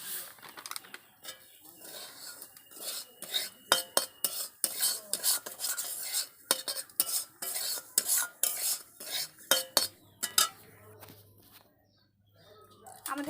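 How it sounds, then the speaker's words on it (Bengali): A spoon scrapes and stirs semolina as it roasts in a pan for vegetarian semolina kofta. The strokes are close, rhythmic and clattery, repeating steadily, with the metal utensil knocking against the pan. "অল্প করে সুজি দিতে হবে, অল্প করে নাড়তে হবে"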